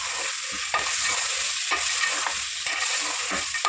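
Mutton paya with tomato and salt being stirred in a pot, a steady scraping stir with a rhythmic pulse about every second over a continuous frying hiss, close and alone.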